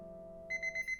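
A kitchen timer set for one minute while Japanese green tea brews goes off with a bright electronic alarm, four quick pulsed beeps in a steady rhythm over a low background hum, fairly faint and close.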